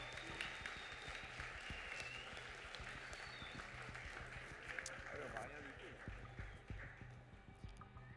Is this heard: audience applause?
yes